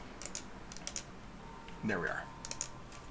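Light computer keyboard typing in short clusters of taps, a few keystrokes at a time, moderately close, with someone briefly speaking over the middle of the clicks.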